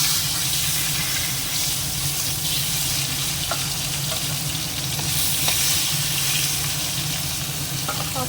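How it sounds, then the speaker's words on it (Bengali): Fish fries in hot oil in a pan, giving a dense, continuous sizzle and steamy hiss that holds steady throughout with only a few faint clicks. "আবার তেল দিয়েছি গরম হয়ে গেছে এবার এই মাছগুলো আগে ভেজে নেবো"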